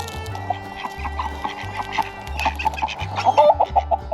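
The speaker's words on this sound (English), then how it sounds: "the chickens are scared of the ducks" Chickens cluck in a farmyard, frightened by nearby ducks, with a rapid run of short, fairly close calls over a steady background.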